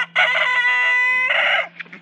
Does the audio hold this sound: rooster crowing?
yes